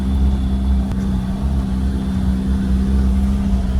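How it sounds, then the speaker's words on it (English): Cars climbing hills on a drive through Yorkshire produce a steady, close engine drone that holds at a strained, working pitch throughout, with no talk over it. "Really working these cars coming up these hills."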